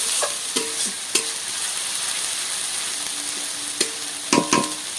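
A spice paste with turmeric fries in a pan, giving a steady soft sizzle, while a spoon stirs and scrapes against the metal in a few sharp, close clicks.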